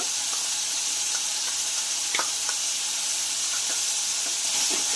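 Ginger garlic paste sizzles steadily in a hot pan with chopped tomatoes for paneer bhurji, a continuous bright frying hiss with small pops and crackles throughout, close and fairly loud, with no talking.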